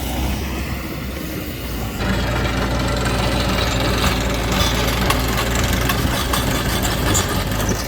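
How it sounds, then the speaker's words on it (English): Ditch Witch trencher digging a trench to bury cable at a missile silo renovation site, a steady heavy diesel drone with low knocking rumble that grows louder and busier after the first two seconds, running continuously. "We've got John out here with the ditch witch. He's going to be trenching for us"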